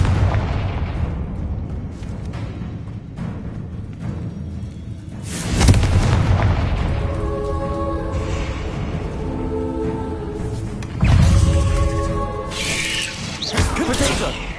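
Confringo blasting spells explode in Hogwarts Legacy gameplay, with several heavy booms and bursts over rumbling game ambience and a musical tone between blasts.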